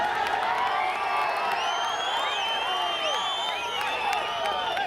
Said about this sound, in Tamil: பசங்க கத்ததான் செய்வாங்க, விடுங்க